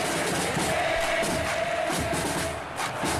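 Stadium crowd in the football video game PES, a dense continuous roar of many voices with rising cheers, steady and loud throughout.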